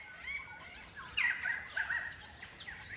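Crimson rosellas calling in the wild: a few bright, piping whistles and chattering notes in short bursts, moderately distant and faint against a quiet natural background.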